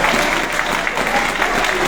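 A crowd at a Paris mobilisation rally for Mali applauds in a brief, steady wash of many hands clapping at once, with no gap.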